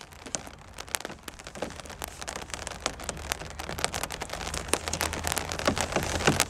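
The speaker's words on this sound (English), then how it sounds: "It's fucking raining." Heavy rain pours down in a constant close hiss, with frequent sharper drop impacts and crackling splashes standing out, growing slightly louder toward the end; no voices.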